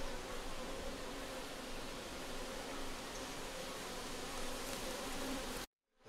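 Dense honeybee hum inside an opened hive on an organic apiary, with combs and wax bridges, droning steadily and close for several seconds before cutting off abruptly.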